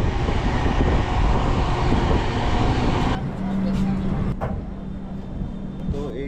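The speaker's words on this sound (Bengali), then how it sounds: "জোরেই কিন্তু গাড়িটা চলছে।" Sealdah Humsafar Express running at about 109 km/h, heard as a steady, loud rumble and rattle from on board; the tone shifts slightly after a few seconds and continues unbroken.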